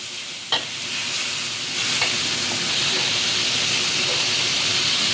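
Sliced pork stir-fried with lemongrass and garlic in a pan gives a steady, loud sizzle and hiss, with a few scraping stirs of the utensil near the start.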